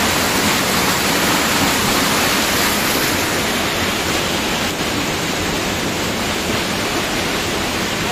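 Strong, forceful stream of countryside water rushing steadily, a loud continuous broadband roar that stays unbroken and close throughout, with no voices.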